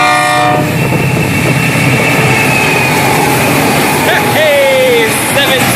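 FEC freight train 101, led by locomotive 710 with 702 and 433 behind, rumbles past loudly with steady rail noise, a horn tone early and a rising squeal near the end, while people talk over it.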